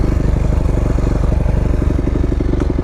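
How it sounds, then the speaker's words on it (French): A motorcycle engine idling smoothly up close, a loud, steady low thrum with an even rhythmic pulse and no speech. "cette moto elle tourne nickel les gars"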